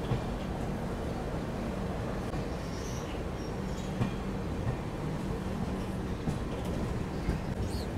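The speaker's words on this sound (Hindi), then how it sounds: "प्लेटफॉर्म नंबर 3 पे देखिए आ चुकी है अमृतसर से चलकर हावड़ा की ओर जाने वाली अमृतसर हावड़ा" The Amritsar–Howrah Express rolls into platform 3 of an Indian railway station, with a continuous low rumble and clatter of passing coaches and faint squeaks, close and steady throughout.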